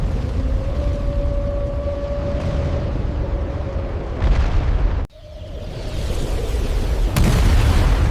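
Deep, rumbling booms of fireballs detonating in a series of violent explosions roll continuously under a dense wall of noise, with a sharp cut and then another heavy blast building toward the end.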